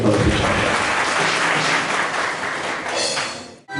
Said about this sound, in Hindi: मिस्टर मनोज, इनके लिए जोरदार तालियों के